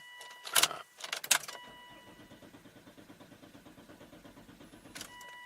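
A car's starter cranks the engine in a fast, even chugging rhythm for several seconds without it catching, preceded by a couple of sharp clicks and rattles and ending with another brief click.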